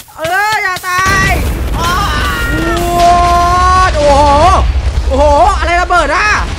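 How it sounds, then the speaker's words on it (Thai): Repeated explosions in the Minecraft video game boom in a steady low rumble beneath excited, overlapping voices of players shouting throughout. "มันระเบิดรัวๆเลยเหรอ"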